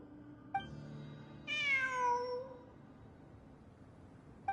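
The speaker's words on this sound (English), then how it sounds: "It really is a cat." A cat in the video game Genshin Impact gives one drawn-out, falling meow, clear and fairly close over quiet ambience, with soft clicks before and after.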